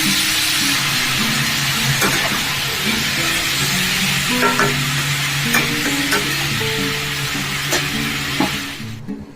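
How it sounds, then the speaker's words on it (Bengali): Salt and turmeric powder sizzle loudly in hot oil in a home kitchen while a spoon stirs and scrapes the pan at intervals, the frying hiss steady until it drops off at the end. "এক চামচ নুন আর এক চামচ হলুদ গুঁড়ো দিয়ে সেটা ভালো করে তেলের মধ্যে কষিয়ে দিচ্ছি"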